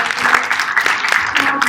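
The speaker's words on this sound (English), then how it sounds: "Please give her a round of applause." A crowd at a youth town hall event claps in steady, dense applause that fills the room at close range, holding fairly loud throughout with no voices over it.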